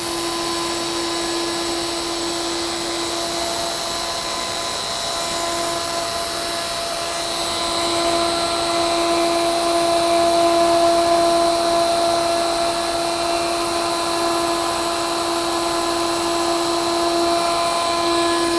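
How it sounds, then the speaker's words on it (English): A router plunge-cuts a narrow string inlay groove in wood, its motor holding a steady high whine throughout, swelling slightly in the middle as the bit bites in. "I'm just going to plunge this cut, so I'm starting with it up off of the base, and I'm going to plunge down into the cut"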